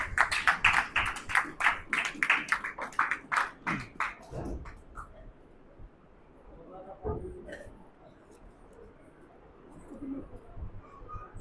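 Audience applause welcoming a speaker at an Urdu/Hindi church gathering: a loud, fast burst of hand clapping that fades out after about four seconds, followed by quiet room sound with faint voices.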